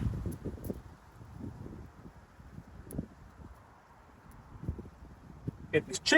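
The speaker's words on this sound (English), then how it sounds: "It's windy out here." Low, gusty wind buffets the microphone outdoors at a chicken-wing barbecue in uneven rumbling bursts, with faint voices and brief rustling in the background.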